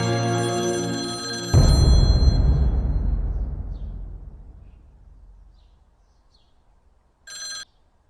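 A telephone rings once in a quiet room in a Pakistani TV drama, then a sudden loud crash follows and fades slowly away. A shorter, fainter ring comes near the end, with no talking.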